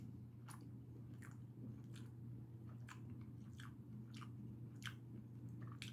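Someone bites into and chews a Starbucks sausage, egg and cheese breakfast sandwich, with soft repeated crunchy, moist chewing sounds close up over a low steady hum.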